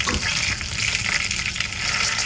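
Bay leaf dropped into hot oil in a kadhai, already tempered with mustard seeds, asafoetida and cumin, for a wet cashew curry: a dense, steady sizzling hiss that holds at an even, fairly loud level throughout.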